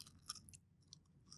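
Crunchy food chewed close to the mic, a few faint, crisp crunches in irregular bursts against a quiet background.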